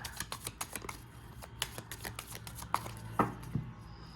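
A tarot deck is cut and shuffled by hand, giving a quick run of soft card flicks and riffles with a couple of sharper taps near the end, close and fairly quiet.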